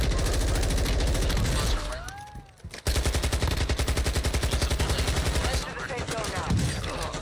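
Rapid, heavy automatic gunfire and sniper shots rattle through a team battle video game, close and loud, in long dense bursts that break off for a moment and then start again, with voices faintly underneath.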